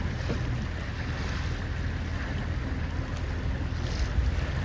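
A C420 sailboat runs before the wind during a regatta, a loud steady rush of wind and water noise buffeting the microphone without a break and with no voices.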